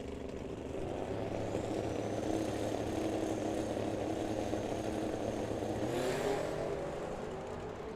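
Drag-race cars, including a Camaro, accelerate hard down the track in a continuous loud engine roar that holds steady for several seconds, with a brief higher whine near the end.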